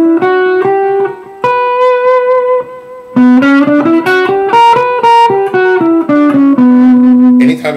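An electric guitar plays a slow, sustained B harmonic minor line of single notes with a distorted, effected tone, loud and alone.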